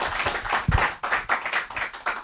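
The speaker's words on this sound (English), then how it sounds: "Can you give them a round of applause for our leaders?" Audience at an internal audit retreat claps for its leaders, with short, moderately close bursts of scattered hand clapping under no talk.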